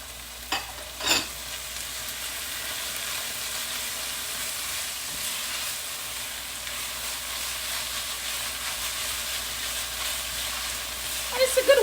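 Spinach sizzles and fries steadily in a small grill pan alongside asparagus, a continuous close hiss with a couple of brief knocks near the start and a few crackles at the end.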